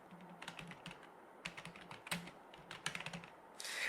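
Fast keystrokes on a computer keyboard while entering a URL and a name into a web form, bursts of close, crisp clicks in irregular runs, with no talking.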